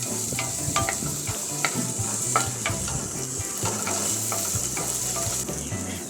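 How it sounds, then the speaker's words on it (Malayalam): Chopped ivy gourd is stirred into sautéed onions in a pan for a Kerala-style thoran, with a strong steady sizzle broken by repeated spatula scrapes and light knocks. "കോവക്ക ചേർത്ത് ഒന്ന് ഇളക്കി കൊടുക്കുക."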